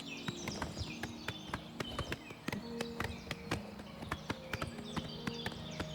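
Rapid, evenly spaced hoofbeats of a horse galloping in Oblivion Remastered, a steady clip-clop pounding close and clear over a low ambient bed with faint bird-like tones, no talking.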